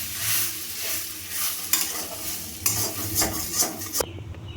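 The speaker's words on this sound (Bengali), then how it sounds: "সোয়াবিনের মধ্যে যে জল আছে সেই জলটা আমি একদম নাড়িয়ে চাড়িয়ে শুকিয়ে নেব।" Spiced soybean mixture fries and sizzles in a wok while being stirred, a steady close crackle broken by several sharper scraping strokes of the spoon against the pan.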